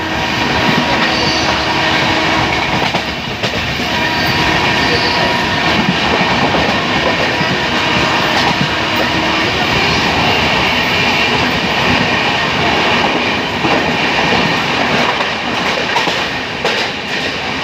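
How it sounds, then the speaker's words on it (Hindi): A train runs at full speed through Banka Ghat station in Bihar, a loud, continuous rumble with clattering wheels and a rushing roar that holds steady throughout. "ट्रेन अपने फुल अंदाज में चल रही है।"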